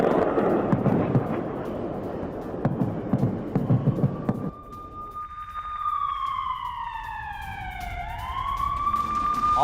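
Air-raid sirens sound over Tel Aviv after an Iranian air attack. A rumbling, crackling din comes first, then several sirens rise and wail in overlapping tones from a distance for the last half.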